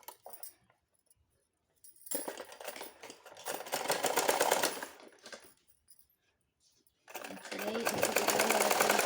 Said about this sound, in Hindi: अब हमें यहाँ सिलाई लगानी है।